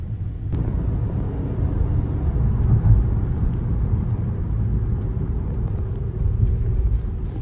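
A GAC GS3 Emzoom, a 2025 model, drives and accelerates, its engine a continuous heavy rumble from inside the cabin, steady and loud with no talk over it.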